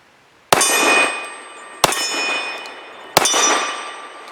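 Three loud, sharp gunshots from a Tisas Regent full-size 1911 pistol firing Winchester PDX1 Defender 230-grain hollow points, spaced about 1.3 seconds apart, each with a bright metallic crack and a ringing decay.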